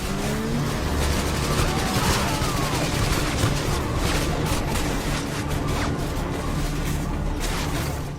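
Dense, continuous gunfire and explosions from the Call of Duty Modern Warfare 2 video game, loud bursts and booms crowding together over a steady rumble for the whole stretch, with no pause or talk.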